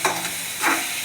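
A tempering of onion and chana dal frying in a pan for chicken sambar, steady close sizzling with a couple of stirring scrapes over one brief second.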